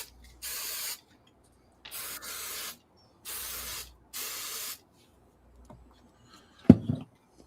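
Hairspray sprayed from an aerosol can onto a painted model: three separate hissing bursts of about a second each with short pauses between them, fairly close, then a sharp knock or click near the end.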